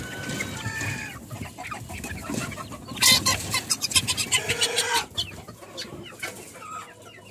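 Fancy chicken chicks cluck and cheep close by, a busy run of short calls that grows denser in the middle, with some rustling in the background.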